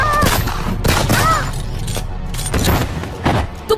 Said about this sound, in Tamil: சத்வந்த் சிங் சுட்ட குண்டுகள் ராமேஸ்வர் தயாளோட தொடையிலையும் கால்லையும் பாயுது